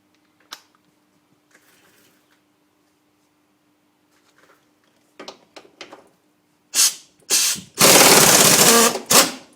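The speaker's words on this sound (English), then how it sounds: "I would just keep the rattle gun on there like that and let it screw itself out a bit like that." A pneumatic rattle gun works loose a tight rear wheel bearing bolt on a 1998 Subaru Impreza, with faint clicks first, then several short bursts and a long, loud hammering rattle near the end.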